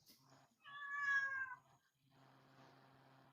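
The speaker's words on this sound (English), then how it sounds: "second she started meowing" A female house cat meows indoors, a single drawn-out call of about a second, fairly close and moderately loud, with quiet room noise before and after.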